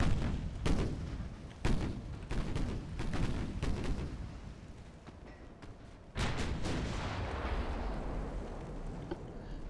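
Warship broadside fire in Ultimate Admiral: Dreadnoughts: a string of loud, booming artillery salvos, several heavy blasts in quick succession, then a roaring barrage that rolls on steadily with no talk.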